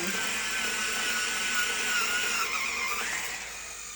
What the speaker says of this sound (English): let me sharpen this black.